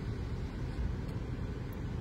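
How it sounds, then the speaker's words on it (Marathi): Air-conditioning blower running inside a Maruti Ertiga under repair for a gas leak, a steady soft whooshing hum with low rumble, even and close throughout. "ब्लोअर चालू केलं आहे"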